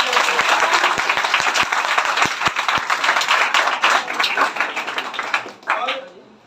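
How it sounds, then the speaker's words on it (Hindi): An audience at a toppers' felicitation ceremony gives loud applause for the topper Rupesh Yadav, dense clapping with a few sharp individual claps that fades toward the end. "रुपेश के लिए एक जोरदार ताली।"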